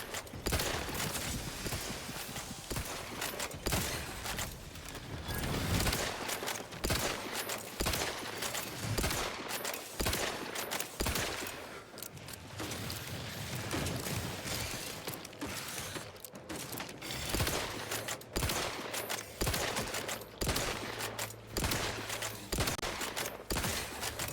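Rapid bursts of gunfire crackle through a firefight in the space shooter Outer Worlds 2, dense overlapping shots with mechanical clanks, loud and sustained across the whole stretch with no talking.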